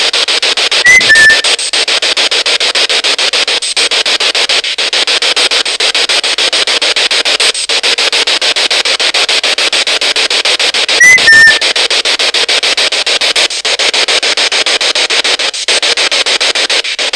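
Someone in Castleton Suicide Cave in Hope Valley gives two short whistles about ten seconds apart. Each is a brief chirping tone over a loud, steady static hiss.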